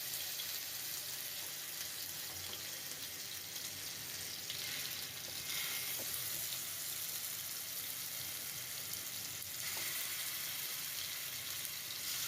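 Marinated chicken pieces shallow frying in hot oil over a high gas flame, a steady, fairly faint sizzle with a couple of brief swells and no talk.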